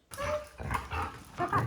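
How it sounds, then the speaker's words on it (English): A dog lets out a quick run of about four loud, sharp barks at close range, each bark separated by a short gap. "can escalate into loud, pitchy frustration barks or else very loud excitement barks"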